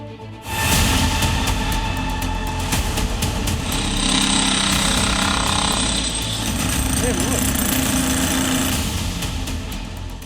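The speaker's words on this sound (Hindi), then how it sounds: "भाईजान खुद ही ड्रिलिंग मशीन ले आए और फिर एक एक करके मदरसे की दीवार, छत और बालकनी को छलनी करने लगे" Loud, continuous hammering of a drilling machine breaking the walls, roof and balcony of a madrasa building, with dense rattling impacts and a running engine throughout. Voices are heard faintly underneath.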